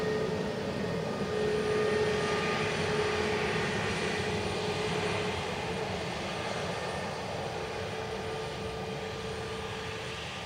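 An ATR turboprop airliner arriving from Glasgow at Dublin Airport, a steady broadband engine roar with a faint propeller hum holding fairly loud and even throughout, slowly easing off toward the end.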